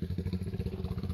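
A motorcycle engine putters close by with a rapid, regular clattering pulse, steady and moderately loud across the short stretch, with no talk over it.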